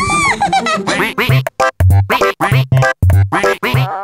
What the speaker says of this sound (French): Notre ami Pato le canard a l'air de bien s'amuser.